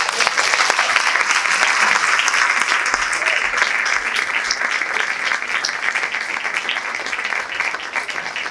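A storytelling event audience applauds a storyteller with a full, sustained round of dense clapping that stays loud and even throughout.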